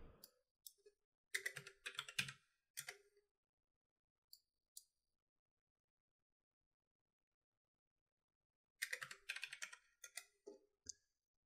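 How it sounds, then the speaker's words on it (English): Typing on a computer keyboard, two quiet close bursts of rapid key clicks separated by a long silent pause, with a couple of isolated taps between. "I'm going to type in the position I want."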